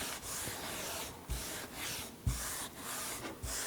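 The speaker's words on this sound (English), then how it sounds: "Just put a generous bit on either a rag or a brush. And then you just rub it all over the surface." Rag rubbing hemp oil over a painted surface, a soft continuous swishing with faint periodic strokes and light bumps, quiet and close with no talking.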